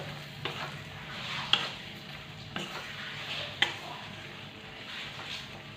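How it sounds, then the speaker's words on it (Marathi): Brinjal being stirred into a spice masala as it sautés in a pan for a spicy curry: a steady sizzle with a few sharp spoon scrapes and knocks against the pan, close by and with no one speaking. "वांगी घालून घ्यायची आहेत पहा वांगी पण छान प्रकारे अशी या मसाल्यांमध्ये मिक्स करून घ्यायचे आहेत"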